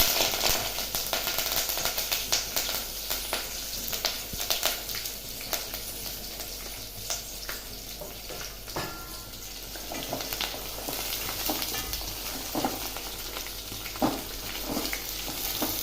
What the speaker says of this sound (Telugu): ఇవి బాగా వేగిన తర్వాత ఇప్పుడు ఉల్లిపాయలు ఎర్రగా వేగిపోయాయండి